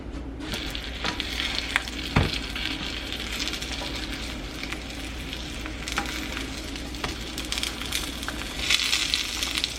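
Food sizzles steadily in a regular frying pan, a continuous close crackling hiss with occasional sharper pops and light utensil clinks.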